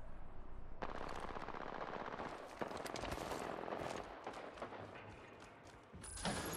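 Rapid automatic gunfire in the shooter game Apex Legends, with dense, continuous bursts and mechanical clatter running for several seconds at steady loudness, with no voices over it.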